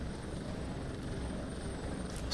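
A helicopter in the video game Prototype 2 drones steadily with a close, continuous rotor thrum, faint and alone for a couple of seconds.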